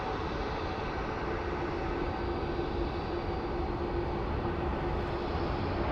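Airliner jet engines at Phoenix Sky Harbor International Airport produce a steady, broad roar with a faint sustained whine, continuous and moderately distant for six seconds with no voices.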